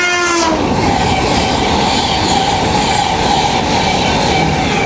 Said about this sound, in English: 800-111 from Edinburgh Waverley to London King's Cross with a belting two-tone from the driver